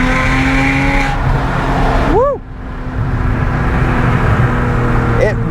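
A supercharged 4.1-litre Porsche 997.1 with an LSD accelerates on the street, its engine note climbing loud and close, breaking off abruptly with a quick rev blip at a gear change, then pulling hard again.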